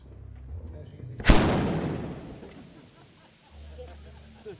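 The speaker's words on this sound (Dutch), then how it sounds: "Een hele streng vol met ballonnen die achter elkaar tot knappen gebracht kan worden." A string of balloons set off as a substitute for New Year fireworks gives one loud, sharp bang and a long, noisy, crackling tail that fades over several seconds.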